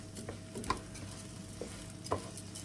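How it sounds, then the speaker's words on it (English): Onions, garlic and chorizo stirred in a hot pan for paella, giving a few soft scrapes and clinks over a quiet, steady sizzle. "So basically you stir this in, you incorporate all the colour, the onions, the garlic and the chorizo, and you just cook it for a minute or so."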